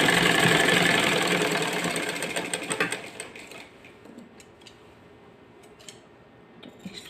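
A sewing machine stitching the folded-over hem of a kurti runs in a loud steady burst for about three seconds, then stops, leaving a few faint clicks and taps.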